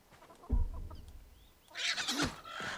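Chickens cluck in the video game RuneScape: Dragonwilds, a few short clucks and squawks rising near the end, with low rumbling ambience underneath.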